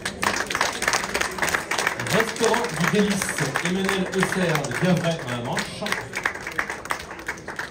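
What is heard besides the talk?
audience applause for contest finalists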